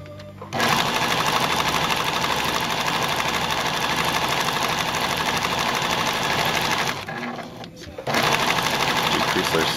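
A Pfaff 1473CD sewing machine running a zigzag stitch, a steady close mechanical whir that stops briefly and then resumes, with a voice talking over it.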